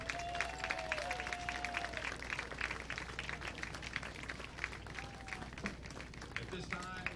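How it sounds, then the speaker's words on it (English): Crowd at a Dixie Youth Baseball Majors World Series game applauds the teams, steady dense clapping sustained throughout, mixed with crowd noise and faint whistles. "give them a great round of applause for their play here this week"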